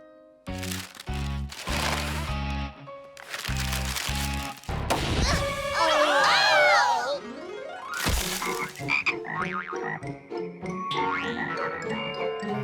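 Cartoon frogs croak in an animated children's series, a run of loud, close, rhythmic croaks and bursts, mixed with boings and whooshing cartoon effects.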